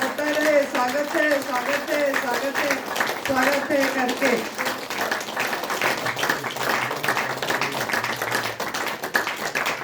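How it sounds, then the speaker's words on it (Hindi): Clapping from an audience at a spiritual talk, scattered and irregular beneath someone speaking in Hindi, with taps and claps running through to the end. "ताली होना चाहिए, होता रहे"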